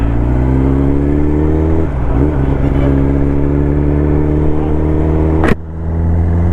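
A Kawasaki ZX-10R sport motorcycle engine holds a loud, steady rev close by, dips briefly, then surges in a sharp rising sweep before cutting off abruptly and settling back to idle.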